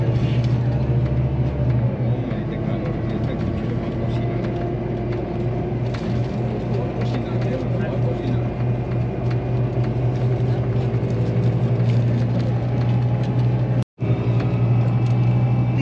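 Interior of a bus pulling out of Manacor, Mallorca: a steady low engine rumble and road noise fill the cabin, continuous and fairly loud, with a brief dropout near the end.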